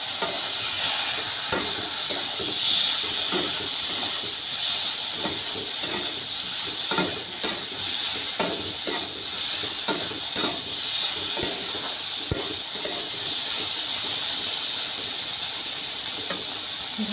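Vegetables frying in a pan, with potatoes for a fish curry, give a loud, continuous hiss and sizzle, close and unbroken, with scattered light crackles and stirring clicks throughout.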